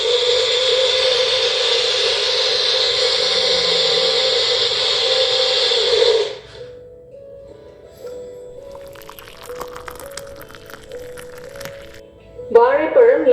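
An electric grinder blends banana, cinnamon powder, rock sugar candy and milk into a drink, giving a loud, steady whirring roar for about six seconds before it cuts off, leaving quiet, faint sounds.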